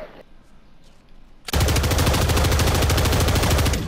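Modded 5.56 rifle in Call of Duty MWZ, heard as sustained rapid automatic fire that begins abruptly after a quiet stretch, loud, close and continuous to the end, with no talking over it.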